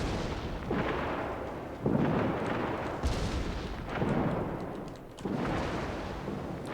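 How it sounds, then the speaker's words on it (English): Heavy naval gun salvos from warships in World of Warships boom in deep, rolling bursts roughly every second or two, each blast trailing into a long rumbling tail with no talk over it. "Salvo comes out towards the Moskva."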